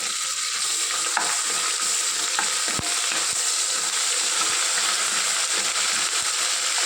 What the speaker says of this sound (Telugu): ఈ అల్లం వెల్లుల్లి పేస్ట్ని కూడా బాగా వేయించుకోవాలి.